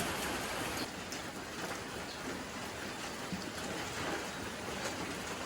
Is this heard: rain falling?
yes